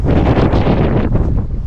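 Heavy wind buffets a microphone outdoors, a loud low rumbling roar that surges and eases without pause.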